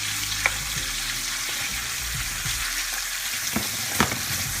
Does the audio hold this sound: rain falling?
no